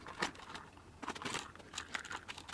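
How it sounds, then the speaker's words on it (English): Scissors snip through a hardened clear plastic dome for a model spaceship, giving short crinkly crunching cuts in a few bursts, close and fairly quiet. "now you can just use scissors to cut it out"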